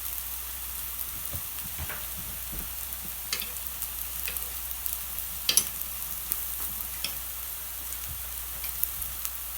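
Vegan lentil pancakes fry in a pan with a soft, steady sizzle, broken by a few faint clicks and scrapes.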